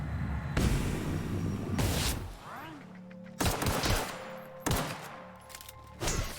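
Gunfire in The Outer Worlds video game as an enemy is shot, loud bursts of rapid shots broken by brief pauses, with weapon and impact effects in between.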